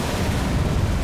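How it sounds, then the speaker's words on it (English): A dense, rumbling video game explosion in Black Mesa fills the short moment, a loud low boom with crackling noise and no pause or voices. "More explosions."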